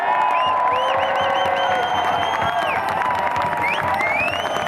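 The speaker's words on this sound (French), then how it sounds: "je voudrais qu'on applaudisse" A crowd at a Montréal rally supporting adequate funding for Radio-Canada applauds and cheers, with sustained clapping and whoops and shouts of varying pitch rising over the din throughout.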